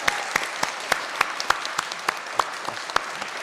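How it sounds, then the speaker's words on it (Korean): A church congregation at a Sunday service claps in unison, sharp evenly spaced claps in a steady rhythm over a soft background of scattered hand noise, with no talking. "좀 지금보다 한 3배 정도 크게 한번 박수 한번 서로."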